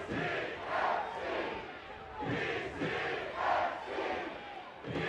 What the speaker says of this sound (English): It's a loud crowd. It's always a well-hydrated crowd.